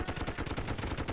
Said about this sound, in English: Anti-infantry gun.